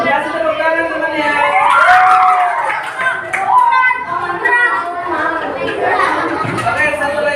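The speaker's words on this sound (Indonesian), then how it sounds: "Kasih tepuk tangan teman-teman." Primary schoolchildren in a classroom cheer, shout and whoop for their classmates, a loud, lively burst of young voices with chatter throughout, while an adult speaks over the noise.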